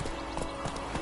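Roach, the horse in The Witcher 3, clip-clopping briefly at close range, a few quick hoof strikes in steady rhythm with no talk.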